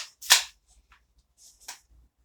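A sharp snapping pop from a toy gun, then quieter clicks and a second, softer crack, close by with silence between them.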